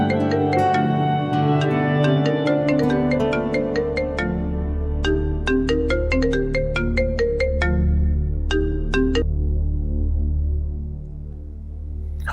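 Phone ringtone for an outgoing call plays in a repeating melodic pattern, loud and close, with no voices over it, fading slightly near the end.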